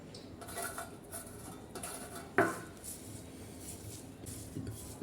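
Green chilies and coriander leaves being mashed for a bharta, producing soft squishing and rubbing sounds with one sharp clink of utensil against a dish midway, close up and with no talk.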